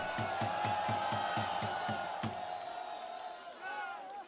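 A crowd at an outdoor political protest rally cheers and shouts together, with a rhythmic series of claps or chanted beats at the start, sustained and distant-sounding, then fading as the cheer trails off.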